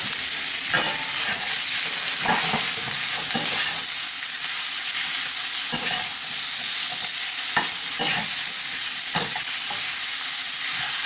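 Shrimp sears in a very hot skillet for a low-carb Texana quesadilla, a loud, constant close sizzle punctuated by repeated spatula scrapes and stirring knocks every second or two, with no talking.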